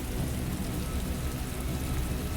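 Heavy rain pours steadily on a lonely road at night, a dense, loud, unbroken hiss and rumble of rainfall with no voices over it.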